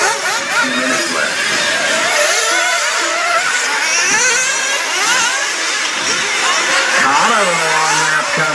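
Several nitro RC buggies race on a track in an A-Main final, their high-pitched engines buzzing and revving continuously and fairly loud, with a race commentator talking over the whine throughout.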